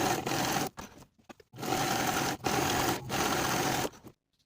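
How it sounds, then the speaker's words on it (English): A sewing machine top stitches seam allowances on a cropped jacket, a quarter inch from the main seams, humming in three close, steady runs broken by short pauses before stopping. "I'll top stitch each of the seam allowances in place with a 1/4 inch seam allowance"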